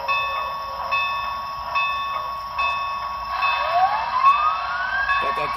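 A model train bell rings in a steady, evenly spaced series of dings, about one per second, while a gliding tonal whistle-like sound rises over the later strikes; no talking.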